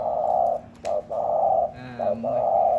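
A Thai decoy dove named Beer, a bird used for luring, calls in repeated deep cooing phrases close by, several bursts in a row with short pauses between them.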